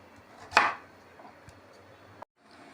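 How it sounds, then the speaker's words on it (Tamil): A knife cuts a pumpkin into large square pieces with one distinct, fairly loud chop on a board, followed by a faint tap and a quiet click, close by with no talk. "இதையும் கொஞ்சம் பெரிய பெரிய ஸ்கொயராக கட் பண்ணிக்கலாம்."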